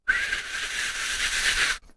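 A voice imitates the high, steady whistling of a 120 mm fan spinning at about 1200 RPM, a sustained airy hiss-whistle held for nearly two seconds, close and fairly loud, with a brief trailing breath at the end.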